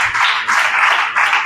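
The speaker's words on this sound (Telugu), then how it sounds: "కొట్టు చప్పట్లు గట్టిగా." A church congregation claps loudly, a dense continuous wash of hand claps that swells and dips in a few pulses over a second and a half, near and alone with no voices.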